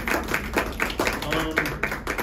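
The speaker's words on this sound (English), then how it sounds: "could you please bring a little 7 o'clock applause for the top seven" Steady, rhythmic clapping from an audience applauding healthcare workers, with even beats at a moderate level and voices mixed in.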